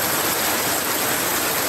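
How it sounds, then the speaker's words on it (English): Heavy tropical rain pouring down during hurricane weather, a dense, loud, unbroken hiss of water falling on surfaces nearby, steady throughout with no voices. "Oh, a lot of rain pouring down."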